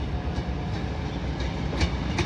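A Class 155 diesel train passes at York station with a steady rolling rumble and faint rhythmic wheel clicks, fairly close and continuous with no talk.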